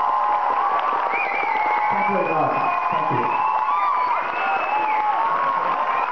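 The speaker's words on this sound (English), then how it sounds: "a big round of applause for Karl" Audience at a school event cheers and applauds loudly and steadily for a composer, with whoops and shouts rising over the clapping while a man near the microphone briefly gives thanks.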